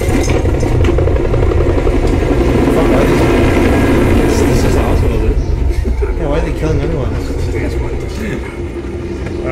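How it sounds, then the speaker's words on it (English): Helicopter in the video game Metal Gear Solid V: The Phantom Pain, a loud continuous rotor and engine drone that fades slightly toward the end, with a person talking over it. "Why would you fucking wave to the helicopter"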